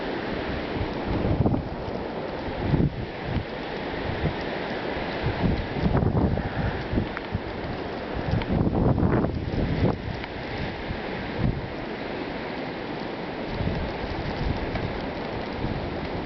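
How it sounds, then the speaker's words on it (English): A Connecticut blizzard, with loud, constant wind roaring and buffeting against the microphone and gusts surging and fading, no talking. "This is one of the craziest storms I've ever seen."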